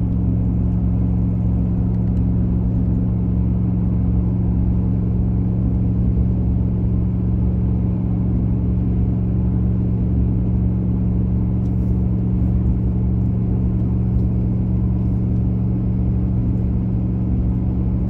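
An RV cruises along a highway toward mountains at the start of a 400-mile leg, its engine and road noise a steady, loud low rumble that holds evenly throughout with no talking.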